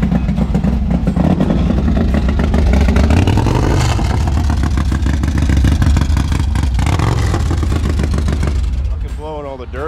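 A motorcycle engine fires up on a dyno and revs hard and loud, its raw roar rising and falling steadily with mechanical clatter, then cutting off near the end as a voice talks over it.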